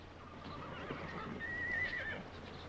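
A horse whinnies in a rising, wavering call in a 1946 film soundtrack, over a steady low hum, with faint hoof-like clops nearby.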